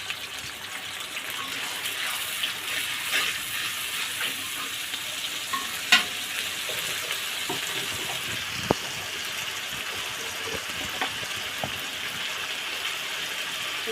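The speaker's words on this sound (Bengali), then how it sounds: "ভালো করে কষায় নিচ্ছে" Chickpeas frying with cumin paste, ginger-garlic paste, chaat masala, coriander powder and salt in a pan, giving a steady close sizzle with scattered clinks and stirring scrapes throughout.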